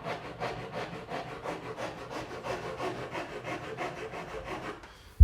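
Steady, rhythmic rasping of a file drawn back and forth across a laminate countertop edge, about a dozen even strokes, close up, ending with a sharp knock.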